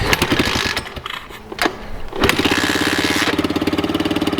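A pit bike engine sputters and catches on choke, then settles into a loud, fast, steady rhythmic idle close by, without talk.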